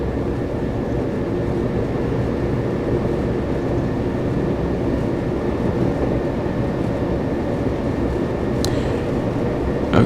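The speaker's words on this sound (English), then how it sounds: "this YouTube video on this train simulator on this Class 377" A Class 377 electric train runs in Train Simulator on the London Victoria route, a steady droning hum and rumble of the moving train that carries on unbroken, with a brief high chirp near the end.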